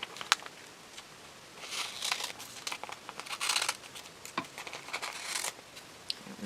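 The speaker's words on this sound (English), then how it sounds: "And I'm going to cut this into two pieces so I can save the other side" Paper crinkles and rustles as a die-cut card with ink-blended colour is cut in two, a close, dry crackling texture with irregular bursts of scissor and paper handling, no voice.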